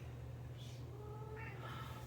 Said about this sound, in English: Hold on, because now the cat wants to go out.